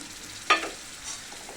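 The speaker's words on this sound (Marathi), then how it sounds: "आता ते आपण तेलामध्ये चांगलं फ्राय करून घेऊ." A paste of ground tomato, peas, garlic and ginger hits hot oil with one sharp, close sizzle burst, then settles into a low, steady frying hiss with faint stirring.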